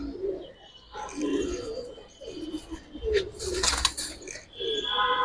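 A Pakistani high flyer pigeon cooing in a loft, a series of soft repeated coos up close with a brief flutter of wings partway through.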